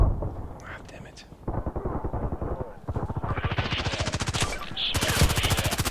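Rapid automatic gunfire in the online shooter Contract Wars, bursts of loud, dense shots building to sustained fire, with a player's voice talking over the gameplay.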